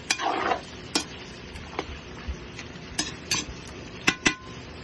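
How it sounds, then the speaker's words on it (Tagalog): Pork pata being sautéed with onion, garlic and ginger, a soft sizzle broken by sharp clinks and scrapes of a utensil against the pan at irregular intervals, close and without talk. "Igisa po natin siya ng mabuti. Para kumapit yung lasa ng ating mga onion, garlic, at luya."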